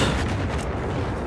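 Heavy mortar fire in the Battlefield 4 video game, a dense continuous low booming rumble with rolling blasts filling the short stretch, loud and close with no talking.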